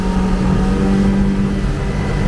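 A Yamaha 90HP outboard on a 2005 Boulton 18ft boat runs at 5,400 RPM, a loud, steady, close engine drone with a constant pitch and a rush of wind and water.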